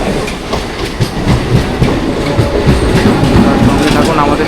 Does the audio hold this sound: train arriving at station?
yes